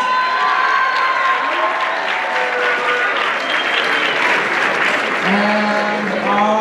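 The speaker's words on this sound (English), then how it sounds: "So give them a big round of applause." Audience at a high school talent show applauding the judges with steady, dense clapping that fills the whole stretch, light cheering mixed in and a voice briefly heard.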